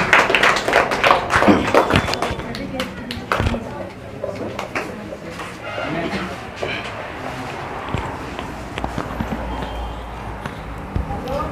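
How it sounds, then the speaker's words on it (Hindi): An audience at an Independence Day celebration in a coaching centre applauds after a speech, with dense claps fading into a looser patter of clapping and crowd noise under a speaking voice. "एक बार फिर से सर के लिए तालियां बजाइए"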